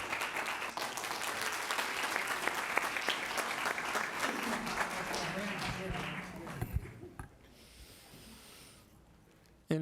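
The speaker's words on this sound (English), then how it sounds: "Let's give a big round of applause to all these All-State Choral students." Sustained audience applause at a school district board meeting honoring All-State Choral high school students, dense clapping for about seven seconds before fading to quieter room noise, with some voices mixed in.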